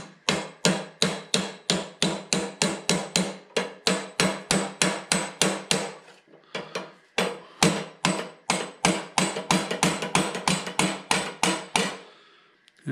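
Hammer blows drive a Ford Model T drive shaft back onto its yoke: sharp, evenly spaced metallic taps in two quick runs with a short pause between, close and loud with no talk over them.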